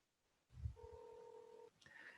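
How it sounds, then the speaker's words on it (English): An outgoing phone call from a contact-center system produces a short burst of dialing tones followed by a steady two-tone ringback signal, clean and fairly quiet. "You can hear that the call goes."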